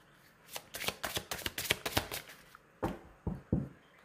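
Oracle cards riffle and snap during a shuffle, with a steady run of close, crisp flicks followed by a few separate slaps as cards are drawn from the deck, with no voices over them.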